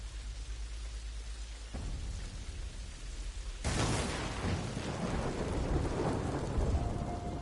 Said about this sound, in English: Fire and thunder in the background as you do the fight scene.